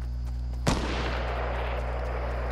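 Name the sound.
sniper rifle shots in Fortnite video game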